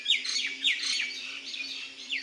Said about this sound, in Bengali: সকাল হলেই পাখিদের কিচিরমিচির শব্দ।